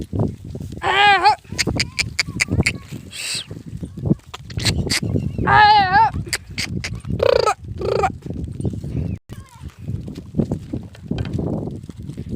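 Goats bleat several times with loud, wavering cries, spaced apart, amid nearby shuffling, clatter and some talking.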